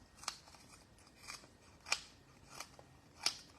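Scissors snip through foam dimensional adhesive pieces, four or five crisp separate cuts spaced unevenly, close and quiet, with no talking.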